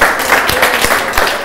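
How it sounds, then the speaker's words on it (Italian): Applause on an Italian TV Epiphany special, loud and brief, with a few distinct heavy claps standing out from a rougher, noisy background. "Ah, Piero, un applauso a questa grande persona"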